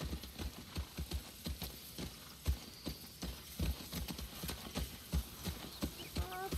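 Horse hooves clip-clop at a steady walking rhythm in the video game The Last of Us Part II, fairly close and clear, with a brief snort or whinny near the end and no talking over it.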